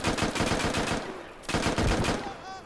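Gunfire in the Squad military shooter game: two loud bursts of rapid automatic shots, each lasting about a second, separated by a brief lull, close and dominant with no talk.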